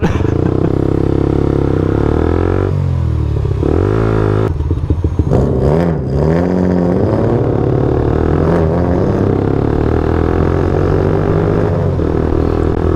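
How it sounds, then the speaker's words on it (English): A loud, throaty engine revs and roars continuously, pitch climbing and dropping in swells, close by with rattling clatter underneath. "That thing sounds like a muscle car"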